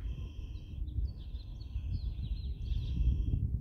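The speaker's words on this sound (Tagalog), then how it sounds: "Parang nag-aawitan ng mga ibon." Birds chirp and warble faintly in the distance in a park over a low outdoor rumble, their high calls continuing throughout.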